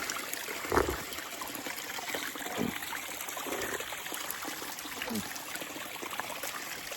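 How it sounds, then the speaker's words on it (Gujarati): A natural spring trickles on Girnar hill during rain, a soft steady flow of running water heard nearby, with a few brief louder splashes and no talk. "આપણે અત્યારે આ ઝરણા પાસે છીએ"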